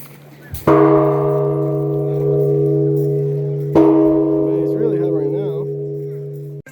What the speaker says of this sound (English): So this guy rang the bell and scared the living Harry out of just about everyone here.